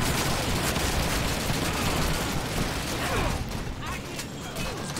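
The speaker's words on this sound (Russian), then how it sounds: "Еще тут стреляют." Gunfire in Call of Duty 2, a dense, continuous barrage of rifle and machine-gun shots with booming reports, loud and close, thinning slightly toward the end.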